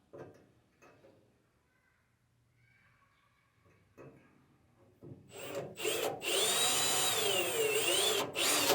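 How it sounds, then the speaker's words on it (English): A power drill bores small holes through a metal plate on a vintage Bugeye car build. A few quiet taps and handling noises come first, then the drill runs loud and close in a steady whine with two short pauses. "Okay, I have the small holes drilled."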